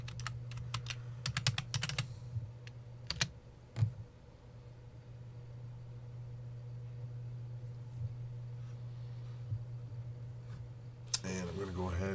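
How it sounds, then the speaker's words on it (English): Computer keyboard keys clack in a quick burst of typing, a few isolated taps following over a steady low electrical hum, with a brief shuffle at the end. "hit enter, type in your password"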